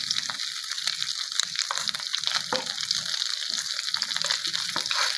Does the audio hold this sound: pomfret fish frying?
yes